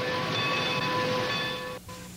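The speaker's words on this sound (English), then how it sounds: "We'll have to stop for the train" A passing train on the Universal Studios Hollywood tour gives a loud, sustained rumbling roar with steady ringing tones, then cuts off abruptly near the end, with no talk.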